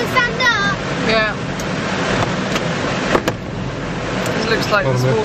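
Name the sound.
automatic car wash spraying water on car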